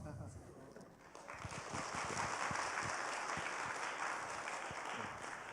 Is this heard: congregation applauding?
yes